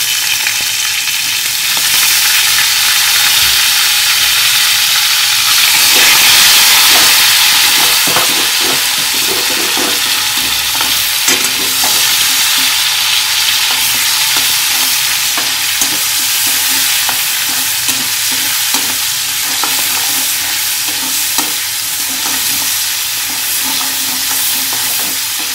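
Sliced onion fries in hot oil in a pan as the start of a cabbage and shrimp dish, with bay leaf added. A loud, steady sizzle and hiss is broken by scraping stirs, and there is no talk.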